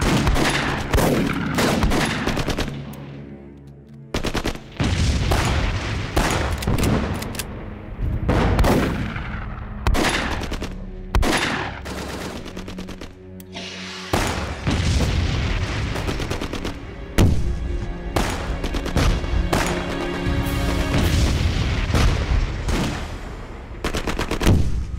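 Intense war film battle scene with relentless loud gunfire and booming explosions, rapid machine-gun bursts and heavy blasts overlapping continuously throughout, dense and close.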